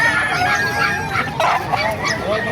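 Chickens at a poultry market in Calumpit, Bulacan, clucking and squawking in short overlapping calls, close and fairly loud against a busy background.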